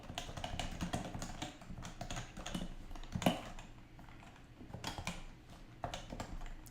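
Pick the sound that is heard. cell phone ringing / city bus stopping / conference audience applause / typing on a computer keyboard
typing on a computer keyboard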